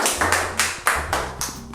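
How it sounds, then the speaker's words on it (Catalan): Short burst of hand clapping for a class mascot, a handful of distinct claps in an uneven rhythm from what sounds like a small group, close by. "Un aplaudiment per Josefo"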